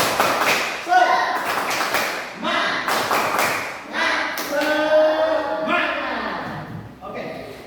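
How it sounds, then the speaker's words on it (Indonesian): A classroom of students performs tepuk semangat, a rhythmic spirit clap, sharp patterned bursts of group clapping in a close room, mixed with loud talking and chanting voices throughout. "Tepuk semangat."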